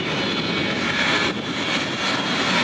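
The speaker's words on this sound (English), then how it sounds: "they are performing before takeoff check and engine running" Frecce Tricolori jet aircraft lined up on the runway at the Quinte Airshow roar continuously with engines running before takeoff, a loud, dense, steady jet noise with no talk.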